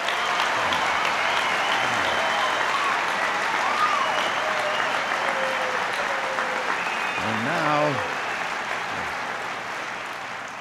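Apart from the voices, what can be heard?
rally crowd applauding Reagan's speech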